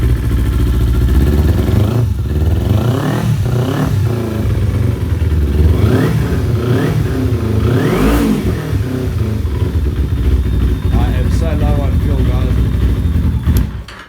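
A Kawasaki Ninja 250R motorcycle engine runs close by after a rebuild, idling roughly and revving up in several quick bursts, loud and continuous throughout.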